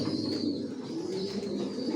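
Imported racing pigeons in a loft coo steadily, a low, continuous, overlapping murmur from several birds close by, with no talk.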